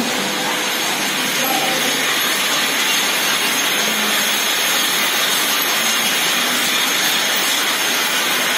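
Steady broadband hiss and roar from a vat of boiling silkworm cocoons, simmered 20 to 25 minutes in a silk mill, loud and continuous with machinery-like drone throughout.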